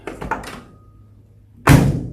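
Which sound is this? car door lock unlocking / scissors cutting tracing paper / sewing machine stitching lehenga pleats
car door lock unlocking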